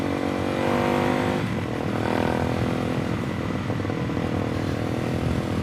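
Suzuki DRZ400SM motorcycle engine after a first gear wheelie, a loud steady droning roar that lifts slightly in pitch then settles, continuous throughout without talk.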